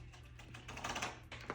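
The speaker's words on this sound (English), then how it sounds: "you cut in a straight line with these scissors" Scissors snip through wig lace in a straight line, giving a close, crisp run of small clicking cuts with no voices over them.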